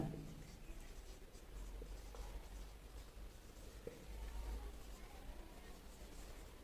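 Writing an English proverb on a board makes a faint, steady scratching of strokes, quiet and continuous, with no talking.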